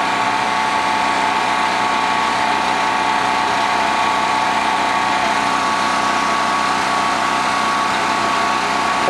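A Frigidaire window air conditioner winds down while a generator keeps running, giving a steady, loud mechanical hum with a constant tone and no speech over it.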